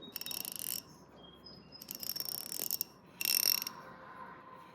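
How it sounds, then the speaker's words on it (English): Rapid fine clicking of a vintage SK 4275 fine-tooth ratchet in three bursts, close and crisp, with short quiet gaps between the turns. "Hear that? It is a fine-tooth ratchet."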